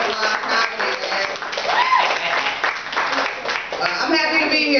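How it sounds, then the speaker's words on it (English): Applause for the comics at a live comedy show: a steady wash of clapping keeps going from start to finish, with a voice talking over it. "give a round of applause to all the comics you sing tonight"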